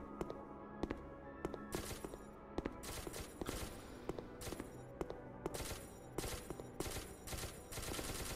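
Gunfire in SCP: Secret Laboratory, rapid repeated shots cracking throughout, some single and some in quick clusters, fairly distant and faint, over a dense noisy game backdrop.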